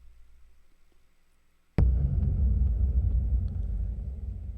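After a quiet, low hum, a single heavy 909 kick drum booms in, clipping, its deep rumbling tail sustaining with reverb and slowly fading.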